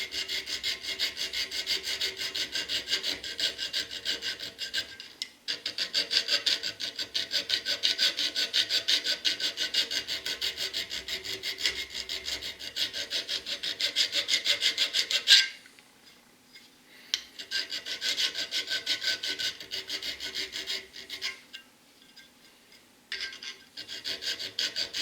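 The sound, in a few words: filing rope pattern into knife spine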